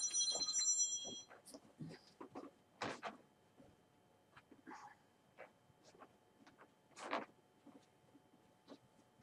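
A telephone rings briefly at the start, a short bright electronic trill, followed by scattered faint clicks and soft tapping in a quiet room.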